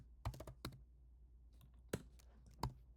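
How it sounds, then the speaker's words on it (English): Computer keyboard keys pressed during game play with WASD controls, a few sparse, faint clicks in small clusters with quiet gaps between them and no talking. "I'm actually pressing WASD."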